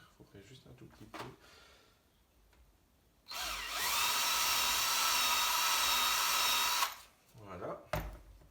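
A power drill bores into wood in one continuous high, loud whine lasting about four seconds, with quieter talk before and after it.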